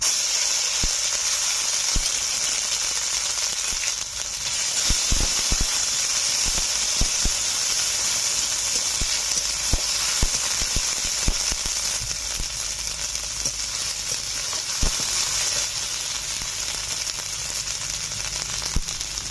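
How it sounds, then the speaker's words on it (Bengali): Onion, garlic and green chili paste fries in hot oil for an amudi fish curry, a continuous hissing sizzle held at a steady level close by, broken by occasional clicks, with no speech. "দিয়ে দিচ্ছি পেঁয়াজ রসুন কাঁচা লঙ্কা বাটা।"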